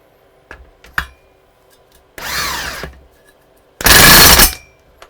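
A power tool zaps the cup and nut onto a customer's mower engine, which vibrated after hitting a post, in two close bursts, the second louder and harsher, after a few faint clicks.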